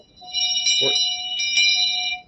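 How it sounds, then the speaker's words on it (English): A small handheld bell rings twice, giving bright, sustained metallic tones that ring out briefly between strikes. A short voice sound cuts in under the first ring. "Carry your bell around."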